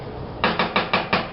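A metal pan is handled in a kitchen while making chili, giving five quick, evenly spaced clanks or scrapes, close and fairly loud, with no talking.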